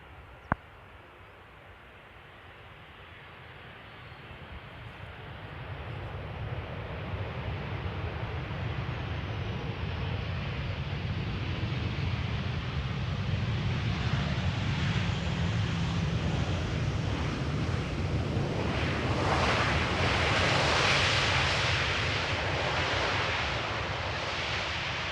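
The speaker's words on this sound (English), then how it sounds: "Typical KLM landing. Continuing a bit further on the runway, taking a later exit." A 22-year-old KLM Boeing 737-800 landing at misty Amsterdam Schiphol, its broadband roar swelling from near quiet into a sustained, distant rush that holds and rolls on as it slows down the runway.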